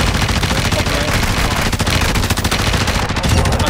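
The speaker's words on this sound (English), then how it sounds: "You are taking effective fire." Dense gunfire in the Call of Duty DMZ game mode, a steady loud stream of rapid shots with some automatic bursts over constant battlefield noise, and no speech.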